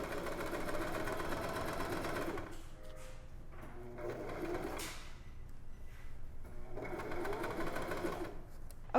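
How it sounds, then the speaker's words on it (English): A sewing machine runs in steady bursts as it stitches the princess seams of a dress, with a sustained whir for the first couple of seconds, then shorter runs separated by brief pauses, close and clear. "I have now sewn both of my princess seams"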